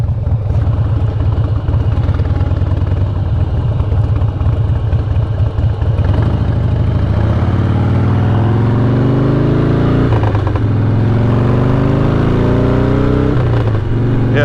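A 2006 Harley-Davidson Softail Deluxe motorcycle makes a slow U-turn, its loud close engine idling with a lumpy rumble and rising in a few short revs.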